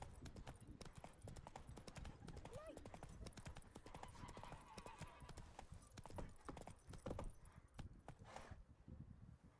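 A horse named Roach trots in the game Witcher 3, its hooves making a steady, rapid clip-clop across the whole stretch, with occasional faint snorts and a low background score.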